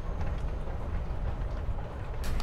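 Steady low rumble of a moving train carriage interior in Life Is Strange: Before the Storm, a continuous rolling drone with faint rattles, fairly loud and unbroken with no talk.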